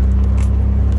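Nostalgia-built XK120 Jaguar replica car driving along, a steady low engine and road rumble close to the microphone with no speech.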